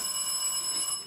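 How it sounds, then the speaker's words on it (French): A telephone rings in a French detective drama set in a Marseille house, giving a brief steady electronic ring with no voices over it. "Excusez-moi, c'est le téléphone."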